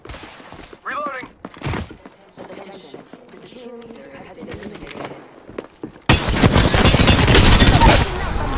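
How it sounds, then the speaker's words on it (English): Gunfire bursts in the Apex Legends battle royale game, arriving as a loud sustained volley near the end after quieter game sounds and voice lines. "Enough, I'm getting shot at."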